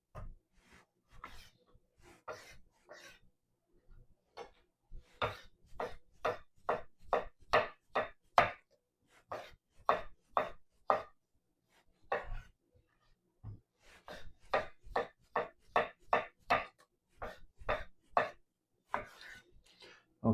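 Knife chopping zucchini on a cutting board, a close run of crisp, even chops coming in quick bursts separated by short pauses, with no talking.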